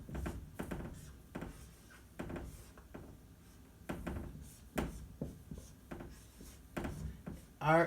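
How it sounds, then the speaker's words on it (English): Pen or chalk writing during an art history lecture, a series of short scratchy strokes and taps spread through the room, moderately close, with faint voice in the background. "I'm going to write down this too."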